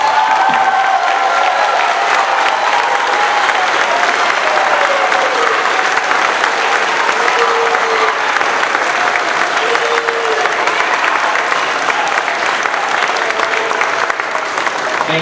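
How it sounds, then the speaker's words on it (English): Sixth-grade students at a school recognition ceremony give their teachers a long, loud round of applause, a dense sustained wash of clapping from a large crowd with some cheering mixed in. "Students, would you please join me in giving our teachers a warm round of applause?"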